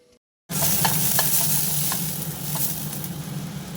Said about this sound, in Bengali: ফ্রাই প্যানটা গরম করতে দিয়ে দিয়েছি এতে তেল ব্রাশ করে নেব